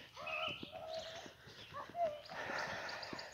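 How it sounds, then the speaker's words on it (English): Birds call and coo outdoors near a picnic table on a chilly day, several short tonal chirps and warbles at modest volume, mixed with faint knocks and a woman's quiet speech. "Listen to the birds singing."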